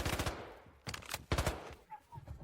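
Bursts of gunfire in the video game Delta Force, loud and close: a long rattling volley, then two more sharp bursts with short pauses between them.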